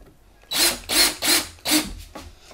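A power drill drives screws into thin PVC panels for an arboreal gecko enclosure, four loud whirring bursts of about a quarter second each, close up and evenly spaced, with no talking.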